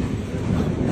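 RCF-built MEMU electric multiple unit rolling along rails between Kjm and Devangothi, giving a steady, close rumble of wheels and carriage with faint clickety-clack, continuous and without talk.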